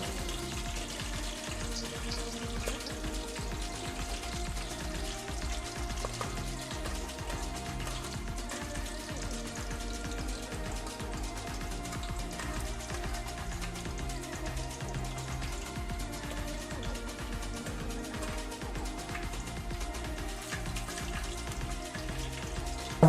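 Mustard seeds sizzle and splutter in hot oil for a curry, a dense, steady crackle of tiny pops close by that continues without a break and with no voices.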